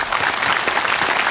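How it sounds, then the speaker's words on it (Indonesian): A studio audience gives dense, loud applause that holds steady for the whole short stretch, with many hands clapping at once. "Kita berikan tepuk tangan yang meriah."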